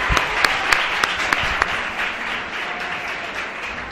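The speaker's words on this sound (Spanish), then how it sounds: "Un aplauso para ellos" Applause from a school audience at a classroom radio event in Alcorcón, opening with several sharp, distinct claps before settling into a dense, even wash of clapping.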